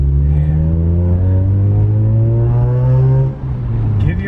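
A Mazda RX8 R3 with a cheap eBay exhaust drones close by with a deep, rumbling exhaust, pitch slowly rising under acceleration, then easing off near the end.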